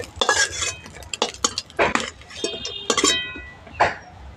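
Fried prawns are lifted out of a cooking pan with a metal utensil, giving a run of close, irregular clinks and scrapes against the pan, with faint sizzling between them and no talk.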